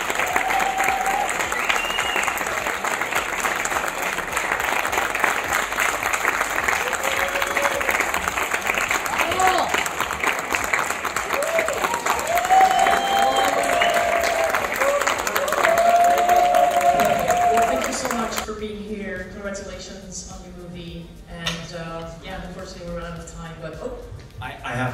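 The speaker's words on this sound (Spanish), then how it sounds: "Un fuerte aplaudimiento." Festival audience at a Sitges film screening applauding warmly, sustained crowd clapping with some cheering that goes on for most of the clip, then fades and gives way to someone speaking.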